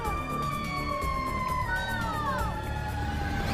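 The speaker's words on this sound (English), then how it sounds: "So a police siren goes by and everybody starts to panic." A police siren wails past in a steady, sweeping up-and-down tone that bends in pitch as it goes by, loud and continuous over a dense background rumble.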